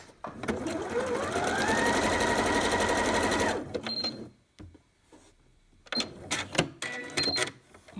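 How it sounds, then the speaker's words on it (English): A sewing machine test-stitches a zigzag while sewing on a pocket, running in one loud, fast, steady burst for several seconds and then stopping, followed by a few scattered clicks and knocks from the machine. "I'm just going to put my needle down and just do a little bit of a stitching here."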